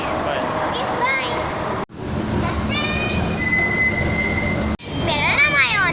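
A Rawalpindi metro bus ride, with steady vehicle rumble and whine throughout, briefly cut twice, while someone talks over it.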